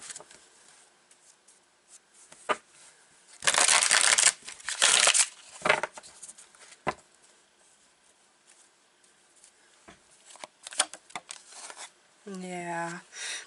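Tarot cards being shuffled during a reading, in short papery riffling bursts around the middle, loud and close, with quieter handling rustles between them and a brief voice near the end.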